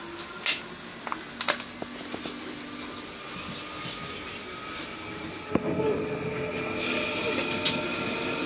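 A London Underground Jubilee line train running between Kilburn and Stanmore, with a steady rumble of carriage noise throughout, scattered clicks and squeals from the wheels, and louder rolling from about halfway through.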